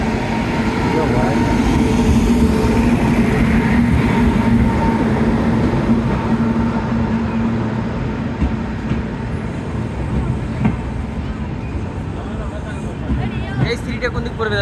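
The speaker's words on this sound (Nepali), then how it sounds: "अनि यो ट्रेन भयो, बल्ल आउँदैछ है त ट्रेन।" A train pulls into a railway station, its loud, steady rumble of wheels and carriages filling the whole stretch and easing slightly toward the end, with people's voices mixed in around it.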